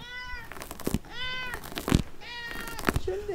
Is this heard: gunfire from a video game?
no